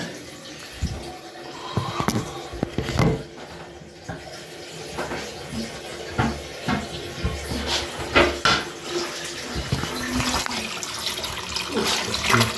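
Water gurgles and splashes through a home central heating radiator during a mains flush on a condensing boiler system, with irregular surges and knocks at moderate level and faint clatter nearby.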